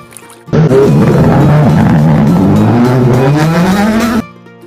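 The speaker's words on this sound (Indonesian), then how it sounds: "Motor balap." Toy race car gives off a loud, close electronic engine roar with squealing, rising tones, sounding for about four seconds before stopping abruptly.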